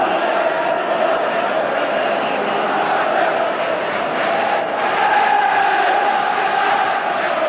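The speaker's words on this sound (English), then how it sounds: "The crowd expectant" A packed football stadium before the 1990 FA Cup semi-final replay between Oldham and Manchester United fills the air with a steady, loud crowd murmur and scattered shouts.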